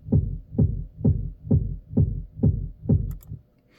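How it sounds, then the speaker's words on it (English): A reversed kick drum sample from a techno track repeats seven times in a steady rhythm, each hit swelling into a deep booming thud, then fades to near silence at the end. "a sample that I found, which is just like a reverse kick"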